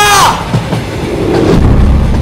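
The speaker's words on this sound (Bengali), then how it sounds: "ওদিক থেকে ট্রেনের হলুদ আলো আর হর্নের তীব্র আওয়াজ শুনতে পেলাম" A cartoon train effect: a short, shrill horn blast opens, then a loud, close rushing rumble of the train sweeping past.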